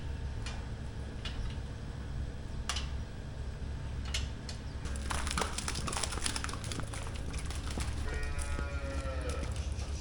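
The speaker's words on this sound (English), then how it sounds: "We're gonna drop these 3 dry cows off." Dairy cows in a barn, with a few moos and soft lowing over steady barn noise, plus bursts of clatter and scraping from the animals or gates.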